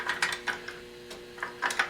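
13 mm box end wrench working lock nuts loose on the brake booster of a Mercedes 300D, a series of close metallic ratcheting clicks and scrapes in short uneven bursts.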